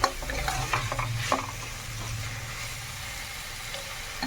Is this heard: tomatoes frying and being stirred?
yes